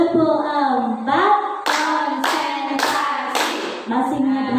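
Four bursts of rhythmic hand clapping in a steady beat, loud and close, with a person speaking or chanting before and after them.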